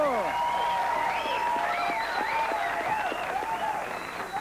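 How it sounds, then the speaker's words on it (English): Studio audience applause on a broadcast television talk show about women boxers and wrestlers, steady and loud throughout, with whoops and cheers from the crowd riding over the clapping. "How about a nice big round of applause, our French maid, Sherry Amour!"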